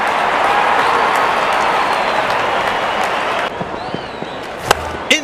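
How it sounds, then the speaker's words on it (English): Crowd applause in the cricket game Real Cricket 24 rises as a dense, loud wash of clapping and cheering, then drops off abruptly partway through, leaving scattered thuds and softer noise. "And the crowd applauds."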